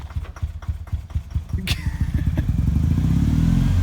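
A two-wheel-drive Ford Ranger revs hard off road as one wheel spins, its engine pulsing in quick rhythmic bursts that build into a loud, steady roar, with a sharp clank partway through.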